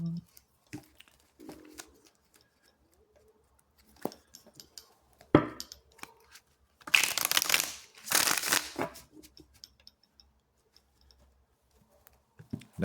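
Tarot cards being shuffled by hand: two loud, close riffling bursts in the middle, surrounded by sparse soft taps and handling noises in a quiet room.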